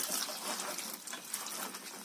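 Vegetables for an outdoor cooking of Bisaya-style mixed vegetables with sikwa being washed, a steady close trickle and splash of running water, fairly quiet with no talking.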